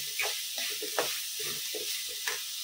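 Fish kootu sautéing in a pan, a steady sizzle with intermittent scraping stirs of a spoon, close and moderately quiet, no talking.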